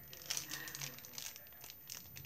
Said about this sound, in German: Es raschelt jetzt halt ein bisschen, ne, weil ich diese jetzt erst frisch aus der Tüte nehme.